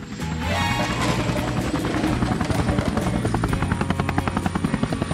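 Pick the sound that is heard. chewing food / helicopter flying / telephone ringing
helicopter flying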